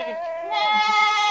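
A Barbari goat on a goat farm in Rahim Yar Khan bleats loudly and close, one sustained wavering cry that grows stronger partway through.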